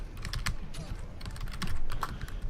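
Rapid clicking of a computer keyboard being typed on, an uneven patter of keystrokes close up.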